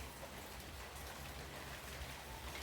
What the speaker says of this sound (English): it's been raining like this over an hour